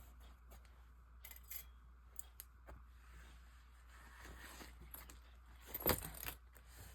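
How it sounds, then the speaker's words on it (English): Sewing clips snapping onto bag fabric give a few sparse, light plastic clicks over a quiet background, with one sharper click near the end. "Clip them all in place."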